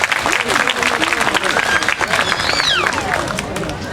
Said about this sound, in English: So give them another round of applause for all their hard work that they put up.